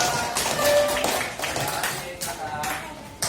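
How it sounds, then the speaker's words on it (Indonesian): A classroom of students claps together in a short, lively burst that tapers off, heard close by with some voices mixed in. "kasih tepuk tangan yang meriah"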